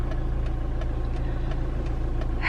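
Steady low hum of a car engine cruising along a road, a constant drone heard from inside the vehicle with no talk.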